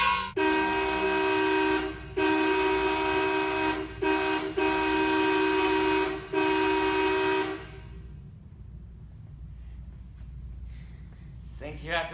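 The horn of a 1962 Chevrolet Impala blares in five loud, sustained honks of uneven length, then cuts off, leaving quiet background noise and a brief sound near the end.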